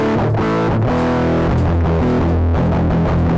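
A heavily distorted electric guitar plays chords and a riff through a Donner Dark Mouse mini distortion pedal at full distortion, thick and slightly muffled, loud and continuous with no voices.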